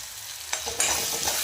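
Spiced dal and spinach masala being sautéed in a pan, with soft frying sizzle and scraping stirs of a spoon, steady and close with a few sharper stirring strokes.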